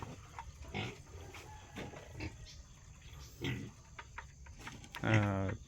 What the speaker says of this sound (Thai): เลี้ยงหมูเล็กนะครับ ดูเขาเล่นกันเพลินๆซนๆดี